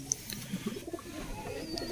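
A pigeon in a fancier's loft gives quiet, low cooing in short murmurs, with a faint chirp or two, near and alone.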